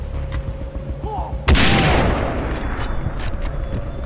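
A single loud sniper rifle shot in the video game Far Cry 3 cracks out sharply partway through, then a long rumbling tail slowly fades over a steady background of game ambience.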